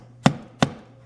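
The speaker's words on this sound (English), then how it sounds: "I use my Gerber multi-tool, put it there. Just a little tap." A Gerber multi-tool gives two light, sharp taps about a third of a second apart, close and clean against a quiet background, while working on an AR charging handle.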